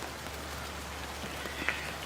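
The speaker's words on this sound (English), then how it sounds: "It's starting to rain pretty hard, and I don't want my camera to die." Steady heavy rain pours down outdoors, a continuous close hiss of drops hitting surfaces with a few louder spatters, no voices.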